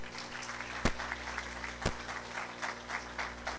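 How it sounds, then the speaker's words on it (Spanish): Audience applause welcoming an engineer to a talk on predictive maintenance of AC motors, a steady patter of clapping from a moderate crowd with a couple of sharp nearby claps. "Recibámoslo con un fuerte voto de aplausos al ingeniero Beltrán"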